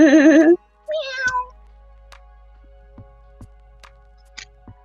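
Loud, close cat meows, several drawn-out cries in a quick burst at the start with another shorter meow after, then soft scattered ticks and taps in a quiet room.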